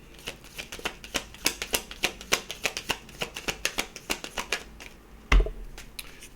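A quick, rapid riffle of card shuffling, a fast run of crisp flutters ending with a single soft thud as the deck settles.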